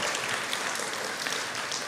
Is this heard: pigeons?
no